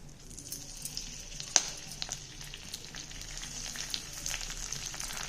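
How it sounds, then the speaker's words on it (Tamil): Washed thoodhuvalai leaves frying in a little oil in a pan, a steady soft sizzle with crackling pops running throughout, one sharper pop near the start, close and moderately quiet with no talking. "அதில் கொஞ்சமாக எண்ணெய் ஊற்றிக்கிறேன். அதில் இந்த கழுவுன தூதுவளையை நம்ம போட்டுடலாம்."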